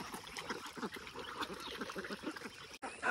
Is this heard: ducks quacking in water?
yes